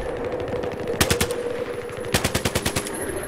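PP-2000 submachine gun firing in Battlefield, two rapid bursts of automatic fire, a short one and then a longer rattling string of shots, loud and close over low game background noise.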